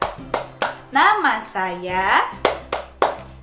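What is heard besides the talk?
hand clapping in an introduction clapping game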